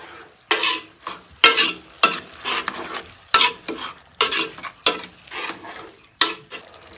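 A curry is stirred in a pan in a home kitchen, with repeated scraping strokes of a spoon against the pot in an uneven rhythm over a soft frying sizzle, close and fairly loud.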